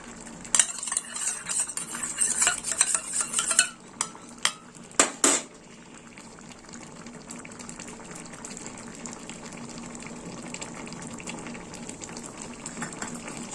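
A spoon scrapes and stirs a yogurt vegetable curry (dahi sabji) with salt and sugar in a pan, with a few clinking knocks early on, then a steady soft sizzle that continues alone.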